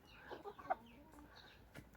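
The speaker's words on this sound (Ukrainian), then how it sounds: "Михалинські курочки і півники шукають неквапно нові будинки" Mechelen hens and roosters give faint, scattered clucks and short calls at some distance, with one sharper cluck standing out in a quiet yard.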